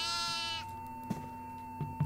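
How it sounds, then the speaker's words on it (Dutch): A goat in a video game gives a single drawn-out bleat at the start. It is fairly faint and sits over a steady electronic hum, followed by a few soft thumps. "Er loopt een geit!"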